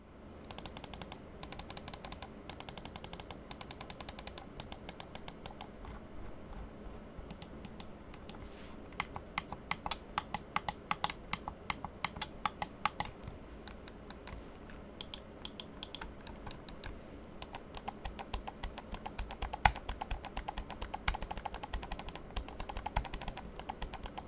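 An Onikuma Yuki White CW905 seven-button macro gaming mouse is clicked repeatedly up close. The crisp, quiet clicks come in rapid irregular runs with brief pauses, and no one speaks.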